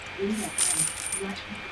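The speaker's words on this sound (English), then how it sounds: "Pick up coin." Video game coin pickup effect: a bright, ringing chime repeating steadily across the short clip, loud and alone without talk.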